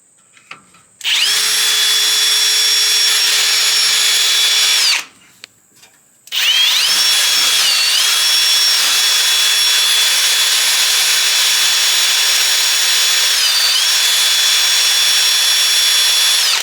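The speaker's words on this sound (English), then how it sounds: "So I'm going to have to drill this bolt out." A power drill grinding into a stuck metal bolt, loud and close, whining steadily for about four seconds, stopping briefly, then running again for a long sustained stretch with slight pitch wobbles under load.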